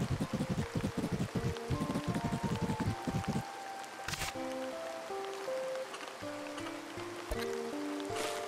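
Water moves between ponds in the video game Horticular, opening with a rushing, splashing burst that gives way to calmer flowing water under soft melodic game music tones, with no speech.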